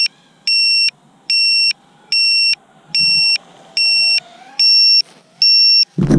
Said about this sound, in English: then you can hear the buzzer going off